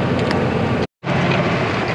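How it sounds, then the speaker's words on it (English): Strong wind buffeting the microphone with a steady roar, briefly cutting out for a moment before the gusting noise resumes. "I don't know if you can hear me because it's windy"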